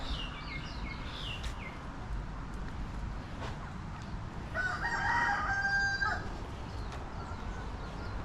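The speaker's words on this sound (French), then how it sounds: "Et les coqs qui se prélassent au soleil." A rooster crows once, clear and mid-distance, over a steady outdoor background hum with faint bird calls earlier.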